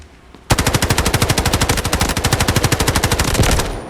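A Ci19 assault rifle fires in the video game Delta Force at a 40-metre range. One long, loud burst of rapid automatic shots runs for about three seconds at an even rhythm, close up, with no other sound.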